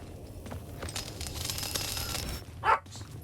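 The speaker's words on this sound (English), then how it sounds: "You might hear our dog barking." A pet dog barks once, a short yip in a room, close but somewhat quiet, sitting over the faint sounds of a video game playing in the background.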